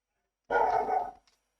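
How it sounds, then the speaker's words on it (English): A dog gives one loud, fairly close bark lasting under a second, with silence before it and a faint scuffle after. "Well, I can hear a dog."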